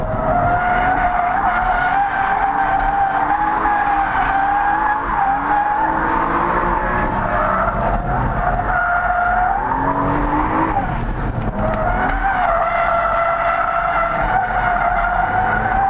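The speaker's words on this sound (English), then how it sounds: "you can get first and second gear oversteer pretty much at whenever the mood strikes." A BMW with a 3.2 liter engine and 6-speed transmission drifting, tires squealing loudly and continuously as the engine note rises and falls through gear changes, close and sustained without speech.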